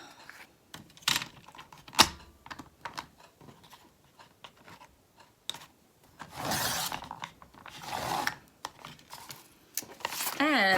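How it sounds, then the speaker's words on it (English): Paper gets its edge trimmed for a wallet-style ephemera holder, with sporadic crisp snips and rustles close by, scattered among quiet gaps and handling noises, louder bursts near the end. "Now I'm just gonna cut this edge off."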